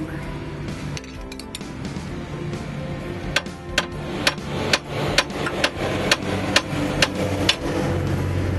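Hammer strikes ring out during installation of a Rugged Ridge heavy-duty steering part on a Jeep: a few scattered taps, then a steady series of about a dozen sharp metallic blows at a regular rhythm over a low background hum.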